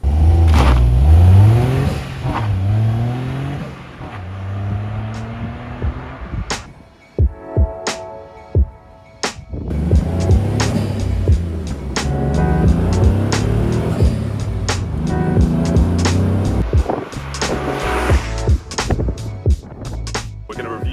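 A Caterham Super Seven 600 sports car engine idles and revs repeatedly, loud and close, with sharp throttle blips and brief pauses between bursts.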